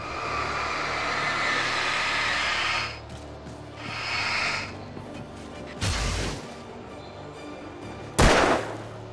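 Sparse gunshots ring out in the Alan Wake video game: two loud, sharp blasts well apart near the end, preceded by a rumbling vehicle-like drone and quieter bursts.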